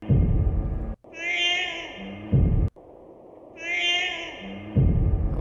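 A cat meows twice, each a drawn-out rising and falling cry, with talking before, between and after the meows.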